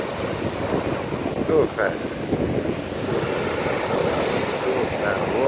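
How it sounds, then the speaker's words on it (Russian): Stormy sea surf on Konyaalti beach in Antalya during an evening walk along the promenade: a continuous roar of breaking waves mixed with gusty wind noise, with a voice speaking briefly over it. "Вот это я понимаю. Волны"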